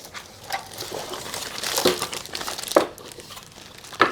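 Packaging for an Azio Retro Classic mechanical keyboard crinkles and rustles in scattered bursts during unboxing, with a few sharper crackles close by and no talking.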